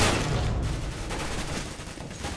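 Rapid, dense gunfire pours into a smoke cloud in Counter-Strike: Global Offensive, a continuous loud burst of overlapping shots with no pauses.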